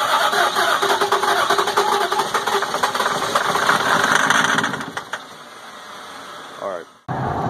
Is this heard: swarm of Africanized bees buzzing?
no